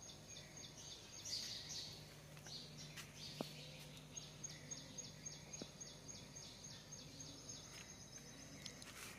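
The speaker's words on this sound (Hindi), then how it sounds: "थोड़ी देर शांत बैठकर आप चिड़ियों की चहचहाट सुन सकते हैं" Scattered bird chirps and short calls ring out over a steady outdoor hum at Ranthambore, Sawai Madhopur, India, fairly faint and distant, with a few sharp clicks mixed in.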